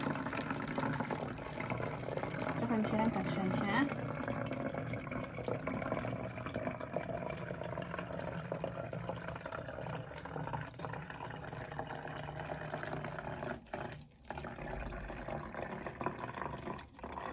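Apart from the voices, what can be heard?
pouring water into a measuring container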